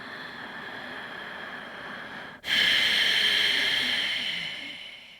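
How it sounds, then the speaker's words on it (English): Ujjayi breathing through a slightly constricted throat, a close, steady hissing breath: one long airy exhale, a brief break, then a louder sustained inhale that slowly fades. "In Ujjayi pranayam, you constrict your throat slightly and then breathe in and breathe out."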